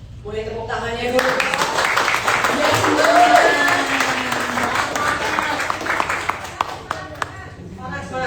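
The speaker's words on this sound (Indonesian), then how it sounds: "Boleh tepuk tangannya dulu." Classroom audience applauding during a quiz game, a dense burst of clapping that swells and then thins into scattered claps, with voices talking over it.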